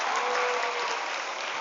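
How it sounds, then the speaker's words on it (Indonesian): A seminar audience at an Islamic Quran-memorization boarding school applauds in a short, dense burst of many hands clapping together at a steady level, with no talking. "Tepuk tangan buat kakak kita ini ya."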